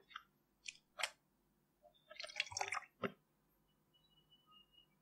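Someone washes their face at home with water and face wash, making faint, close wet splashes, drips and squishy rubbing sounds in short bursts separated by quiet pauses.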